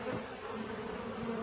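A steady, dense drone of bees buzzing at an opened hive behind a broken-through wall, close and continuous with no talk over it.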